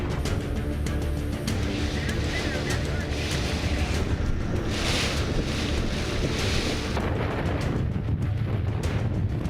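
Hurricane Delta's wind roaring steadily at Lake Charles, with strong gusts buffeting close and loud across the whole stretch, broadband rushing noise and no clear voices.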